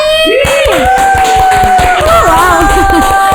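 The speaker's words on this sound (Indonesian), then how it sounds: "Boleh beri tepuk tangan yang mulia untuk Afni." A studio audience breaks into applause and cheering to welcome a guest onstage, a dense wash of clapping with excited voices calling out throughout the few seconds.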